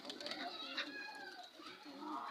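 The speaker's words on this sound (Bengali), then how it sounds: "তিনটা কবুতর ধরছে" Domestic pigeons coo softly in a repeated, murmuring rhythm at close range, with a voice partly audible underneath throughout.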